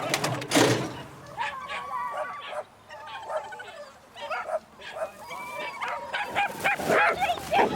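Dogs bark and yelp at a dog race, with repeated excited yips in a busy outdoor crowd, while a person talks over the noise.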